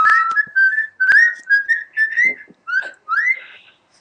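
People whistling on a radio show, short bright melodic phrases in a broken rhythm of several bursts with brief gaps, close and fairly loud, no talk.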